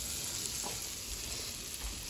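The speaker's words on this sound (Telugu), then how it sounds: "తర్వాత ప్యాన్ వేడి చేసేసుకొని కొంచెం బటర్ వేసుకున్నాను." Butter melting in a heated pan for pancakes, giving a quiet, steady sizzling hiss that holds evenly for a couple of seconds with no voices.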